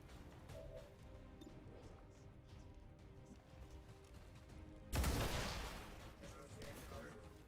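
A single loud pistol shot from XCOM 2 breaks a long stretch of quiet ambience, then fades gradually.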